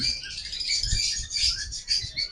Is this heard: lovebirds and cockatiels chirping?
yes